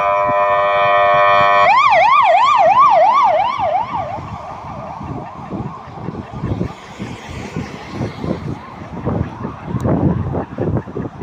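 A police siren yelps in quick rising-and-falling sweeps, loud at first and then fading as it moves away, leaving gusty wind and rumbling noise.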